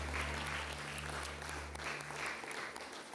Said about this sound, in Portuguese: Uma salva de palmas para o Senhor nosso Deus